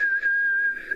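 A voice imitates the high ringing whistle in the ears after firing a gun without earplugs, a single steady pure tone held for about a second, close and moderately loud.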